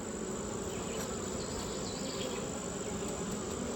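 Honeybees buzz loudly and continuously at an open hive being fed, with a dense, even drone from many bees close by throughout and no talking.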